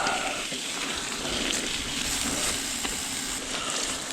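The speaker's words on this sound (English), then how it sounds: "It's a rainy day at Hartland" Steady rain falls during a wet ride at Hartland, a continuous broadband wash of drops and water noise at even loudness with no voices.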